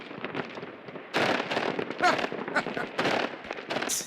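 Fireworks going off in Iceland, a dense run of popping and crackling bursts at middling distance, with louder clusters breaking out over an ongoing background crackle.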